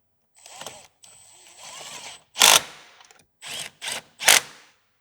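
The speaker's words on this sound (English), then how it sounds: "From here, I'll bolt up our boost solenoids." Boost solenoids being bolted onto an ECU bracket in a Mitsubishi Evo X engine bay: close, separate bursts of ratcheting and metallic tool clicks with brief pauses between them.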